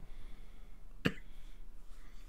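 A single sharp cough from a person, brief and isolated against a quiet background with faint low noise.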